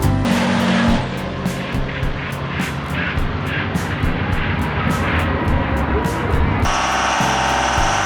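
Diesel pickup trucks at a truck pull roar loudly and continuously up close, the engine note shifting and swelling with rapid pulsing bursts and a wailing turbo-like whine, and no voices over it.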